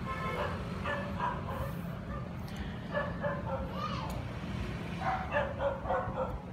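Young puppies yip and whine in short, high-pitched bursts, close by and fairly loud, coming in several clusters over a steady low background rumble.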